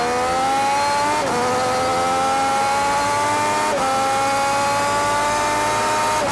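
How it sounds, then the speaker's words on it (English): A 2020 Triumph Street Triple S A2 motorcycle with a deeper exhaust note roars loud and continuous, the engine pitch climbing steadily and dropping twice as if shifting gears, with no talking. "Triumph have also taken the opportunity to give it a deeper exhaust note"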